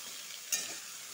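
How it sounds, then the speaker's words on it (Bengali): Pointed gourd (potol), salted beforehand, frying in oil in a pan without turmeric; a quiet steady hiss of sizzling with a brief stir or scrape midway, no talking. "ভালো করে ভেজে নিব"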